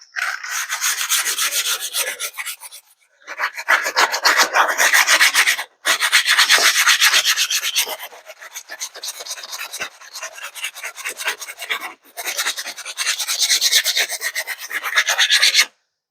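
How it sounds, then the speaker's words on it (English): Steady rasping of 320 grit sandpaper over a surface wetted with WD-40 oil, worked in long close strokes with a few brief pauses, loud and continuous with no talk. "Letting the 320 grit sandpaper do its work."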